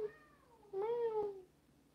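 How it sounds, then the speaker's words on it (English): A house cat meows twice nearby, a short drawn-out first call followed by a louder, fuller second meow that rises and trails off, with no talking over it. "guys hear that meow? It's adorable."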